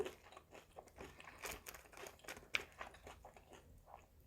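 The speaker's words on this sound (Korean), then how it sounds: "무엇보다 돈가스가 너무 바삭바삭한데?" Crisp fried pork cutlet being bitten and chewed close up, with a run of soft crunches and crackles and one sharper snap midway, no talking.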